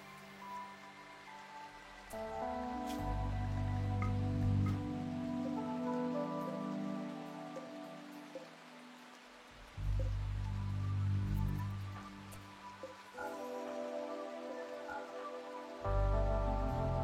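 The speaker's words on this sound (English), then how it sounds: "Right now it's raining, so there is nothing wrong with me killing a fucking boomalope" Steady rain falls in a video game with animals and hunting, a continuous mid-level patter of drops on surfaces running throughout, mixed with game music tones.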